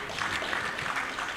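Applause at a decoration ceremony for newly promoted officers and men of the service, a brief burst of crowd clapping, dense and moderately distant.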